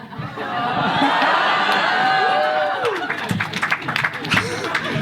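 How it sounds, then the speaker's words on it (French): A small audience gives a brief, timid round of applause: a few scattered claps over a low crowd murmur, close by and fairly soft. "L'applaudissement timide."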